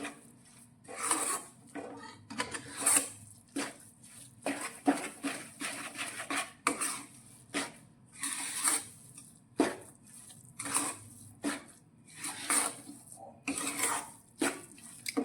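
Jaggery is worked into flour in a pan for sukhdi with the gas flame off. Close, rhythmic scraping and rubbing strokes of a spoon on the pan repeat steadily throughout.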